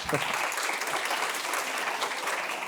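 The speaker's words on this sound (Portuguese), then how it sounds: "Dá uma salva de palmas para esses aniversariantes." Applause from a church congregation celebrating birthday members, dense steady clapping filling the whole moment at moderate loudness with no voices over it.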